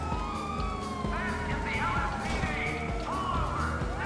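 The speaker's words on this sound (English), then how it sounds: "can't you hear my fucking sirens? It means move to the side." A police car siren wails continuously in GTA 5 Online, loud and close, its rising and falling tone sweeping repeatedly over a rumbling engine and traffic noise.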